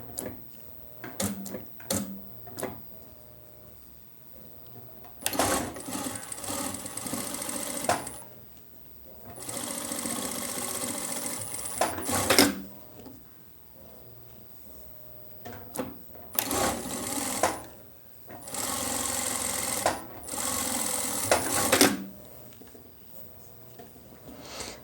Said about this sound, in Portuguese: máquina de viés de gola, que é aquela máquina reta de 2 agulhas ponto corrente.